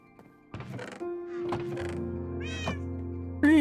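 A Minecraft cat meows several times in quick succession, close and clear, with small thunks and game tones underneath.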